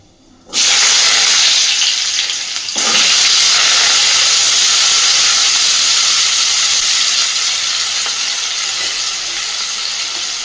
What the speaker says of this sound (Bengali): আলু যেহেতু একটু সময় বেশি নেবে সিদ্ধ হতে, তাই আমি আলুটাকে আগে ভেজে নেবো ভালোভাবে